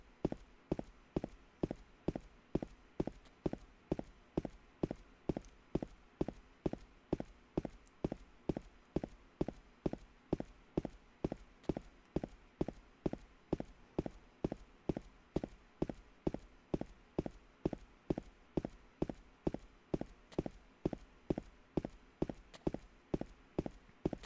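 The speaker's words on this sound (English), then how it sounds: "It's the sound of the lying figures walking, which they accidentally put here in place of the foghorns." Footsteps of the lying figures from the Silent Hill HD Collection game, a steady, evenly spaced thudding tread repeating dozens of times, faint and mechanical with no variation.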